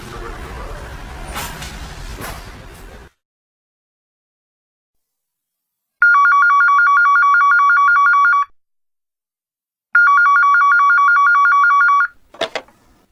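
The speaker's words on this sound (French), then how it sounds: "Je suis sûr qu'elle a son portable et qu'elle sera ravie d'appeler Paul" A telephone rings for a call in two long electronic bursts separated by a pause, loud and clear after a stretch of silence, with brief noise before and after.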